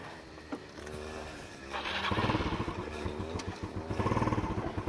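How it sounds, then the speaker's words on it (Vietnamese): A motorbike engine runs close by, idling at first and then revving louder into a steady throbbing rumble as the bike moves off along a slippery road. "Lâu lắm rồi không đi xe máy."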